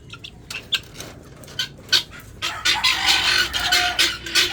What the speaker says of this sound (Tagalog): Iniingayan tayo ng mabingala.